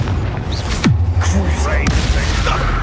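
Confringo fire spell explosions in the game Hogwarts Legacy: booming blasts and whooshing effects over a continuous low rumble of battle, with a spoken voice on top.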